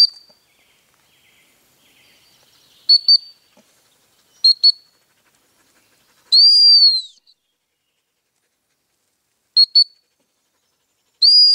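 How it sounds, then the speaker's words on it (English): A dog training whistle gives short, shrill peeps, single and paired, plus one longer blast, spaced apart by several seconds of near silence and heard close by. "So that gives you an idea of practicing with the whistle."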